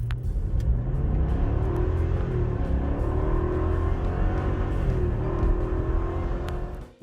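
A Ford 7.3-liter Godzilla V8 rumbles loud and close, a deep steady roar with rising and falling pitch sweeps before it cuts off at the end.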